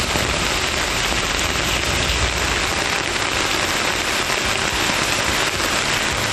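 Heavy monsoon rain pours down in a dense, unbroken roar of drops drumming on surfaces, loud and constant from start to finish with no voices.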